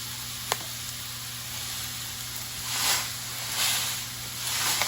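Beef noodles stir-frying in a hot oiled pan, a steady sizzle with swelling hisses as the noodles are tossed, and a faint click of a utensil early on.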